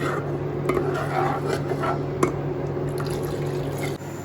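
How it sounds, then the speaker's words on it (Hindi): Water is poured into a cooking pot while making Kashmiri chicken rishta, a steady liquid splash and trickle with faint clinks of the pot, heard close. "यहाँ पे जो है तो पानी सारा अभी एक ही बार डल जाएगा"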